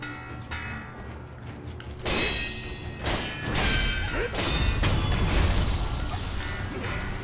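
An enemy strikes an alarm bell in Sekiro: Shadows Die Twice, its metallic clangs ringing out repeatedly amid heavy thuds and crashes of in-game combat, with no talking.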